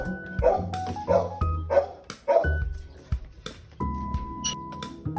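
A dog barks sharply several times in quick bursts, close by, with whimpering yips between and steady background noise.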